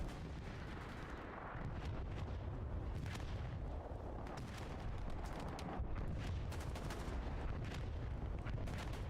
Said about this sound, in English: Absolutely clutch bombing run